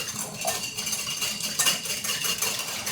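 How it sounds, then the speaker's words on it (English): Egg, melted coconut oil and vanilla whisked in a bowl for pumpkin bran muffins, a rapid, continuous clatter of a whisk against the bowl's sides, close and fairly loud, with no voices. "I'm gonna whisk together my egg, along with some coconut oil that's been melted, obviously, vanilla, and then I'm gonna give that a whisk."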